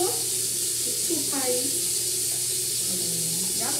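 Water from a bathroom tap runs onto a toothbrush as a steady, close hiss under a person's talking.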